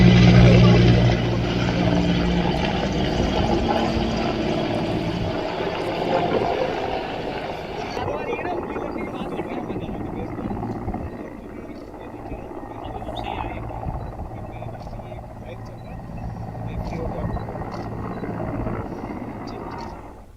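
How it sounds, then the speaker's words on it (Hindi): An Indian Air Force helicopter fighting a fire over burning hills drones with a steady rotor and engine roar, loud at first and then somewhat quieter, under a narrator's voice. "आग को बुझाने के लिए हेलीकॉप्टर का सहारा लेना पड़ा"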